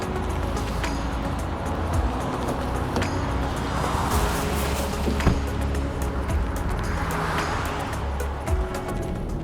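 A car driving along a road, its steady engine and tyre rumble running continuously at moderate level with a few faint bumps and no talk.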